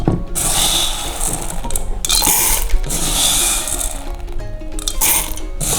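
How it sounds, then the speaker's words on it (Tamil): A mixer grinder grinds roasted green gram into flour with a loud, steady whir, running in a few bursts separated by brief pauses. "மிக்சியில் அரைச்சி வச்சு மாவே எடுப்போம்."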